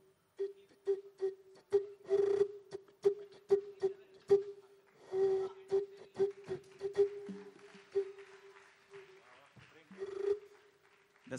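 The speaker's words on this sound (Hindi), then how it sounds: "बोतल में पानी लिया था और उसमें फूंक मार के एक साउंड क्रिएट किया था।" A steady hollow tone from air blown across a water-filled bottle holds through a live stage performance of a Sholay song, with sharp rhythmic percussion hits and a few pauses over about eleven seconds.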